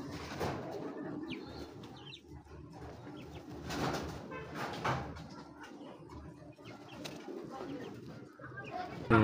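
Pigeons coo in a busy loft of fancy breeds, including a lively Gribas and a Beji pigeon, their low murmuring calls rolling on steadily with occasional wing flutters and faint background movement.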